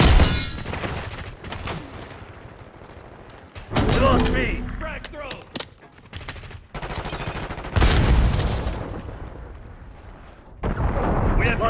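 A frag grenade blast and bursts of gunfire in the Call of Duty shooter, heavy booms recurring every few seconds amid continuous shooting, with voices shouting over the battle.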